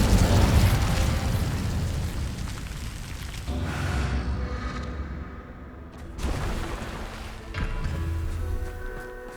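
A whooshing fire spell in Hogwarts Legacy, a roaring burst of flame at the start that fades into rumbling and shimmering magical tones, followed by further softer bursts and swells.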